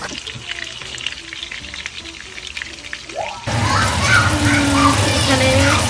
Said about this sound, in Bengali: কাবাব ভাজাভাজি করা হবে তো উনতে একে একে সব কাবাব দিয়ে দিতেছে